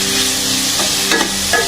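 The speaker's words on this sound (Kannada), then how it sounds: "ಅದನ್ನು ಸ್ವಲ್ಪ ಚೆನ್ನಾಗಿ ಫ್ರೈ ಮಾಡ್ತೀನಿ" Chopped onion frying in a pan with a little oil, a loud, close, dense sizzle holding steady with a few brief scrapes of stirring near the end.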